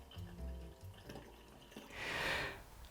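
Water fills a homemade valve rig for a test run, a faint trickling and splashing that swells into a brief louder gush near the end.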